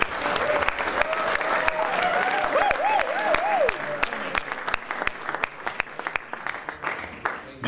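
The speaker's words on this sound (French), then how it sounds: "on l'encourage ce soir, on l'applaudit pour son témoignage." An audience applauds a personal testimony at an evening gathering, with sustained close clapping and a crowd murmur underneath, while a faint melodic tone wavers early on and the clapping thins out toward the end.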